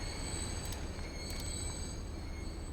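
A northbound train arriving in the video game Transport Fever 2 on an East Coast line: a steady, close rolling rumble with high, thin wheel squeal that stays constant throughout, with no talk.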